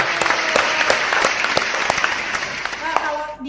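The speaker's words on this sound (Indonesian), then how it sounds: "Coba tepuk tangan." Applause from a live audience at an Indonesian book discussion of a viral novel, steady dense clapping throughout with a few sharper claps standing out and brief voices heard beneath it.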